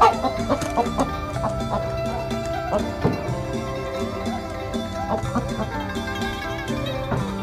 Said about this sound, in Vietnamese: Hôm nay sẽ mổ con gà Thiến.